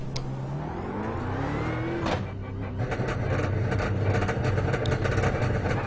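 Racing-game BMW Z4 GT3 engine pulling out of the pits at Monza, a steady close drone that climbs in pitch through the gears, with a brief shift blip and rising whine alone without talk.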